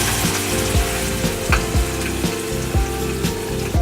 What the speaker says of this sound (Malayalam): ഇനി ഇത് നമുക്ക് ഫ്രൈ ചെയ്തെടുക്കാം.